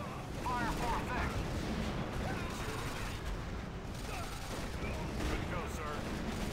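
Dense, continuous rumble of an artillery barrage in the World War II strategy game Axis & Allies, set at the Battle of Iwo Jima, with overlapping booms and battle noise under faint radio-style unit voices.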